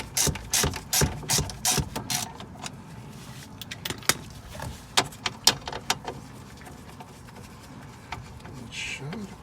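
A hand ratchet clicks in quick, close bursts while loosening strut bolts on a 1992 Honda Civic EG hatchback, followed by scattered single clicks and light metal clinks.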